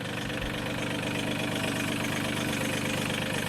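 A backhoe engine runs close by with a steady, even drone and a throbbing low rumble throughout, with no voices.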